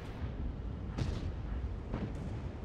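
World of Tanks tank gun firing, two dull heavy booms about a second apart over a low rumbling battlefield ambience, moderately loud.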